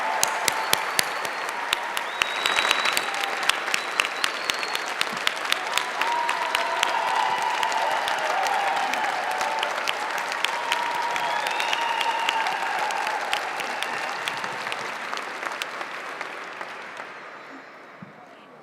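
Audience applause at the swearing-in ceremony for the 26th Chief of the San Francisco Fire Department, a long steady round of clapping with some scattered louder claps, fading out near the end.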